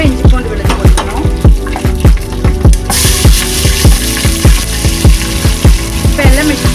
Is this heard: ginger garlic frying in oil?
yes